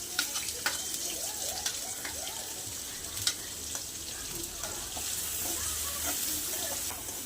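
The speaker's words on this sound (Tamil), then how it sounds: "எண்ணெய் சூடானதும் ஃபைனாக சாப் பண்ண பெரிய வெங்காயம் ஒன்று போட்டுக்கலாம்" Finely chopped large onion sizzles in about three spoons of hot oil in a pan, a soft continuous frying hiss broken by occasional clicks and stirring scrapes.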